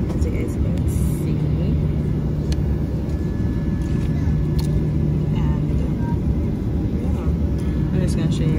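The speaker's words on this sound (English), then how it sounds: "So guys, I'm on the plane." Airplane cabin noise on a flight from Turks and Caicos: a loud, steady, close engine rumble and hum that continues unbroken throughout, with no talking over it.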